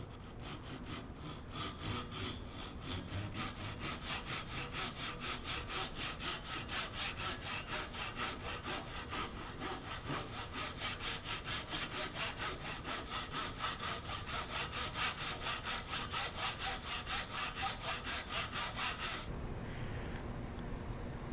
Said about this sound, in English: I'll use this saw to make a kerf in here and then just slide the blade in